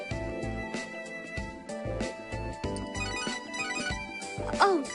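A phone ringtone sounds in the Devil Survivor 2 video game, a steady, bright electronic melody with layered tones that plays continuously at moderate volume. No voices are heard over it.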